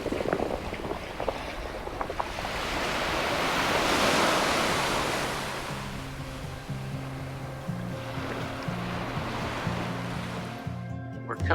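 Ocean waves wash and surge at Shroud Cay, a broad rushing swell that builds to a peak and eases, with wind buffeting the microphone and a faint tonal hum joining later.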